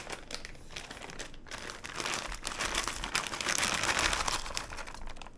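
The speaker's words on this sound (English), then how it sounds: "I'm going to put this whole bag in there." A whole bag of cauliflower tipped into a cooking pot, with loud plastic-bag crinkling and a rustling tumble of florets that builds toward the end, close by and with no talking.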